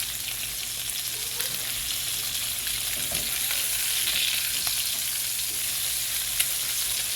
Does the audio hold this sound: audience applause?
no